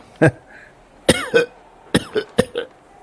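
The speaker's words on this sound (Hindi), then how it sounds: "कुछ नहीं, खांसी है" A man coughs in several rough, close bursts, spaced across a few seconds, with short throat-clearing sounds between them in a quiet indoor scene from a dubbed Hollywood film.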